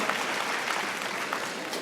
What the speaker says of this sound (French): On va les applaudir encore une fois à tous ceux qui ont été honorés ce soir.